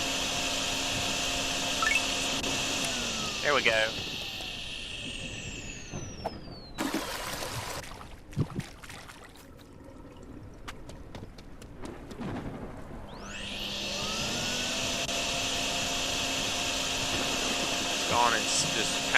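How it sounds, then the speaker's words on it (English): Water being vacuumed up from a flooded parking lot while draining in a video game, a steady broadband whooshing drone that cuts out midway and resumes, with someone talking briefly over it. "just vacuum off all the residual water that's going to probably build up here very shortly"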